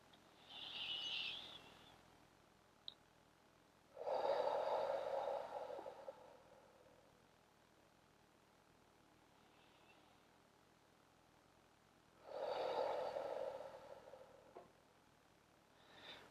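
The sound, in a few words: deep breathing in and out during yoga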